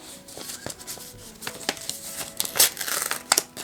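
A paper envelope is torn open with care, giving a run of close crinkling and ripping sounds, sharper bursts near the end, and no talking.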